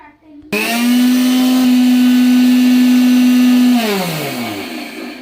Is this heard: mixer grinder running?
yes